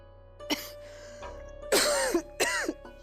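A person with a lingering cough clears the throat and then coughs in a few short, harsh bursts, heard close and on its own.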